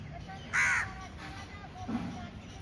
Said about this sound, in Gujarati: કાગડા કાબરો આવે ધીરે ધીરે ઝાડવા ઉપર બેઠા છે